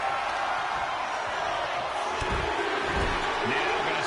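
Steady roar of an arena crowd in the WWE 2K25 wrestling game during a chamber match, loud and continuous throughout with a few thuds and swells, no talk.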